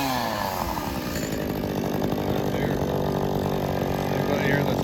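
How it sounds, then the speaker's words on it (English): A John Deere chainsaw runs steadily at a show with steam engines nearby, its buzzing motor loud and continuous throughout, while voices talk over it. "John Deere chainsaws. You don't see many of them."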